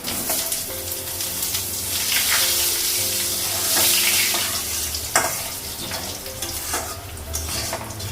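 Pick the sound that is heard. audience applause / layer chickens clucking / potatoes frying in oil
potatoes frying in oil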